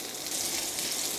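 Garlic and shallots sizzle in a hot pan while a pumpkin stir-fry with curry powder and dried shrimp is being made, a steady, bright frying hiss that stays even throughout.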